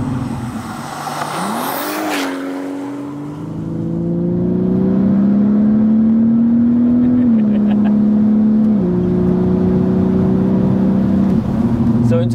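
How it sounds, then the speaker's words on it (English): Turbocharged MK5 Golf R32 engine spooling up, a loud, steady rising drone that holds and climbs for several seconds, with brief shifts in pitch as the boost builds. "Ready to go, you can hear it spooling up."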